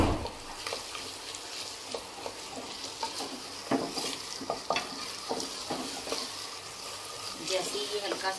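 Garlic ginger paste sizzles and fries in a pan with cumin for chicken karahi, a steady crackling hiss broken by scattered clicks and scrapes of stirring, close by with a voice talking faintly underneath.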